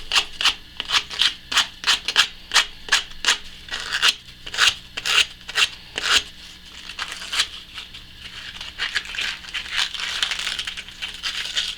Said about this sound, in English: A little bit of emery cloth.